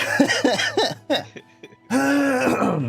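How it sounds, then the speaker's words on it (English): A man makes a few rough throat-clearing coughs close to the microphone, followed by a strained, groaning vocal sound. "I'm gonna cough my brains out."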